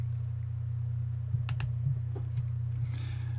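A couple of quiet computer mouse clicks in a software dialog, brief and close, sitting over a steady electrical hum, with no talking.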